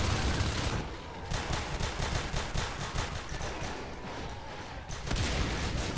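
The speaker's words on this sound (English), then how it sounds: "that shotgun just coming in and adding a lot of damage to these much-needed fights" Shotgun fire in the Natural Selection 2 video game during a close fight, rapid repeated blasts forming a steady barrage with brief lulls, loud and continuous through the clip, no talk.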